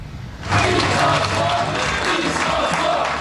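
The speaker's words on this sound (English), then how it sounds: "loyal Bloc Québécois supporters cheering for leader Yves-François Blanchet" Loyal Bloc Québécois supporters cheer for leader Yves-François Blanchet at an election-night celebration, a dense crowd roar of shouts and applause that swells in after a quiet half-second and stays loud and continuous.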